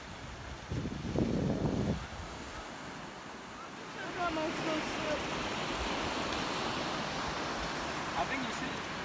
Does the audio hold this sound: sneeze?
no